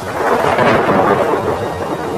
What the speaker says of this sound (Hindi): आसमान में काले बादल दिखाई देने लगे हैं। बरसात आ चुकी है।